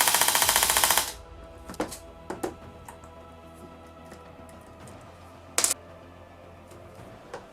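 An LCT AK airsoft gun with its gearbox just reassembled fires a short, rapid full-auto burst lasting about a second, followed by a few faint clicks and handling knocks.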